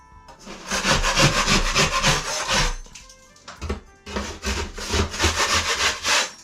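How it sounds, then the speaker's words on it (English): A 4- or 6-inch drywall knife scrapes skim coat compound across a painted, textured ceiling in long rasping strokes, two close bursts split by a short pause. "So just take your 4-inch or 6-inch knife and just run it along like this."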